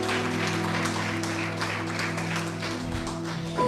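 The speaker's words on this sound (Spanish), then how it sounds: "Un aplauso al Señor." A church congregation applauds the Lord during a Catholic sermon, steady sustained clapping from a crowd over a held organ or keyboard chord.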